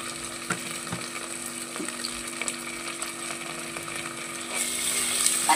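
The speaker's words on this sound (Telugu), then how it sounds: "ఈ అల్లం పచ్చివాసన పోయేంత వరకు ఫ్రై చేసుకోవాలి." Ginger garlic paste sizzles and fries steadily in a pan with bay leaves and cinnamon for a mint pulao, a constant close crackle with faint stirring scrapes and no talking.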